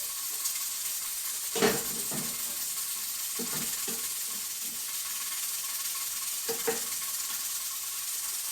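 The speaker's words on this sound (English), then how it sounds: "I'm rendering it down and making cracklings out of some of this" Venison fat rendering down into cracklings in a pan: a soft steady sizzle with a few brief scraping stirs and clinks, quiet and close with no talking.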